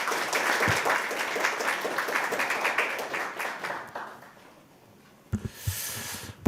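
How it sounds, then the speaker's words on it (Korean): Audience at a National Assembly forum applauding to welcome a speaker to the podium, steady clapping that gradually dies down over several seconds, followed by a few bumps and handling noises. "큰 박수로 모시도록 하겠습니다"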